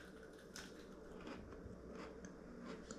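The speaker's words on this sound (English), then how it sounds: "I'm gonna try the chip now." Crisp bites and crunching on a freeze-dried potato chip, several faint crackly snaps close to the mouth over quiet background, with no talking.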